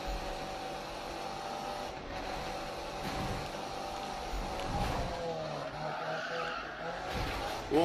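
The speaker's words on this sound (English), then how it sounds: "Oh, I put too much fucking drift on it." In the Need For Speed racing game, a car drifts with sustained tire squeal and a droning engine for several seconds at a steady level, rising sharply at the very end.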